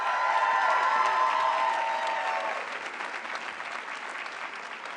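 A crowd at a community college commencement cheers and applauds for graduates' family and friends, with loud whoops and shouts over dense clapping that eases off after a few seconds while the applause continues.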